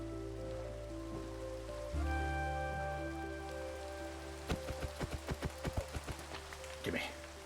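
Steady rain falls in a Minecraft-style biome-exploring game, a constant patter under background music with a sequence of short plinking drops near the end.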